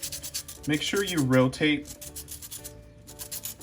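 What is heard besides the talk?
pencil being sanded on sandpaper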